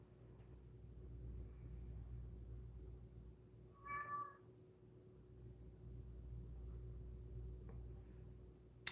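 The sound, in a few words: cat meowing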